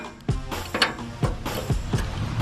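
A ratchet wrench turning a bolt, giving several sharp metallic clicks and clanks spaced irregularly, close and fairly loud, with no talk.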